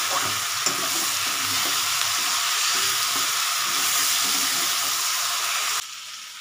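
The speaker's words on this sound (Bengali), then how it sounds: "দেখো আমার মশলাটা দিয়ে দিয়েছি, সাতলানো হয়ে গেছে।" Ground coriander, cumin and other spices sizzle in hot oil over a raised gas flame for a tangra fish curry, with steady loud frying and occasional stirring scrapes, alone and continuous until it drops abruptly near the end.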